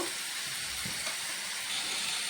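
Potatoes fry slowly in oil, giving a steady, close sizzling hiss that holds at an even level throughout, with a few faint bumps underneath.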